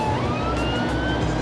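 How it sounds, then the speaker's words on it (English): A police car siren wails at full blast, loud and continuous, its rising and falling tone sweeping over steady road and engine noise from a pursuit on a dry motorway. "Even with the blue lights on and the siren at full blast,"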